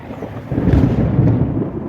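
Thunder rumbles during a rainstorm in Bagasara as a short, loud, low roll that swells and fades, with no one speaking.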